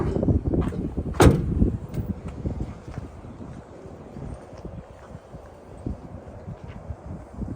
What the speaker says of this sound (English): I'll just shut that door.